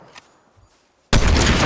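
Fortnite gunfire bursts in abruptly after a near-silent second, a dense, loud rattle of rapid shots that lasts to the end.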